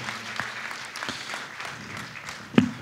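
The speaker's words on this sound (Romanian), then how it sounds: "Aplaudăm!" Applause from a conference audience in a church hall, a steady patter of clapping lasting about three seconds with one sharper, louder clap near the end.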